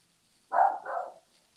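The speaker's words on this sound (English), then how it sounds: "Let me close the window fast because my dogs are barking." Dogs barking at home, one short two-part bark heard at moderate distance and then silence.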